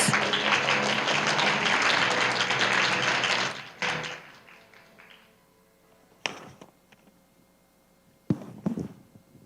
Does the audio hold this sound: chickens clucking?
no